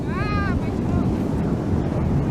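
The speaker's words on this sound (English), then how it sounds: "Just gonna come out here and take a little vid of some of the waves" Ocean waves at Stinson Beach rushing in a broad, steady roar, mixed with heavy wind buffeting the microphone and a brief voice near the start.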